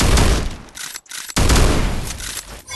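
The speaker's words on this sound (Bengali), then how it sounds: "দেখো এত কাছ থেকে কিভাবে হেডশট মারলো" Rapid close-range gunfire in a video game, loud dense bursts of shots separated by a brief quiet gap before another sustained volley.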